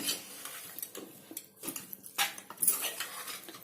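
A spoon clinks and scrapes around a metal bowl while mustard and fenugreek powder are stirred into amla pickle, a close series of irregular light taps and rattles.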